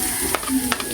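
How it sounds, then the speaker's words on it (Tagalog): Garlic sizzles in hot oil in a pan, a steady close frying hiss with a couple of brief scraping stirs. "Ayan po tayo magigisa na. Magigisa na po tayo ng bawang."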